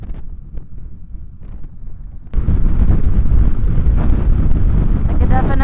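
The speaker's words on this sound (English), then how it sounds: "I can feel the wind push the bike around" Heavy wind buffeting a microphone on a motorcycle ride, starting light with a few quiet voices, then abruptly swelling into a loud, continuous roar that fills the rest of the clip.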